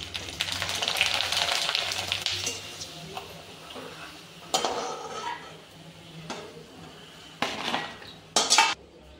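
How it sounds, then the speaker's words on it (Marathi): Rice papad made from ration rice frying in hot oil, a steady soft sizzle and crackle close by, broken by several sharp clinks of utensils against the pan. "अशा प्रकारे आपण सर्व पापड्या तळून घेऊया।"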